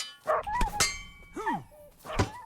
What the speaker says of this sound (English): they're killing my dog again